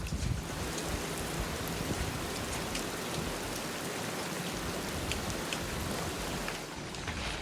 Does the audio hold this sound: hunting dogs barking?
no